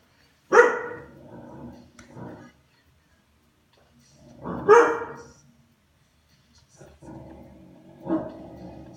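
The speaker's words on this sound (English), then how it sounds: "I apologize if my dog is splitting eardrums." A roughly 30-pound black dog lets out three loud, close bark bursts a few seconds apart, each a sharp bark trailing into shorter yips, with quiet gaps between.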